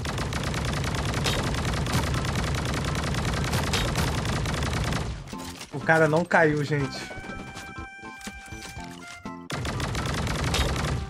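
Dense rapid gunfire rattles in the battle royale game Sausage Man, bursts of automatic shots over a steady roar, then a gap filled with game effects and tones before the shooting resumes. A player talks over it.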